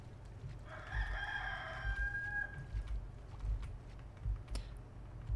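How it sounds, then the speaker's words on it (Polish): In-game rooster from Warcraft III gives one clear cock-a-doodle-doo crow, mid-distance over a steady low hum, followed by faint clicking. "Kukuryku."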